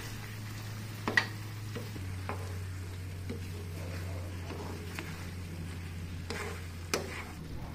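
Quail eggs, ham and mixed vegetables are stirred in a pan, giving a faint continuous sizzle with occasional light clicks of a utensil against the pan over a low steady hum, close and quiet.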